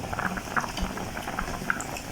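A pot of fish curry bubbles and simmers steadily, with soft popping and gurgling close by.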